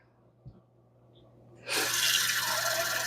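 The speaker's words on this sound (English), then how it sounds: "I do like to start with a little bit of water in the bottom of each jar." Water runs from a kitchen tap into canning jars, starting as a steady, fairly loud gushing rush after a short quiet stretch with a faint low hum.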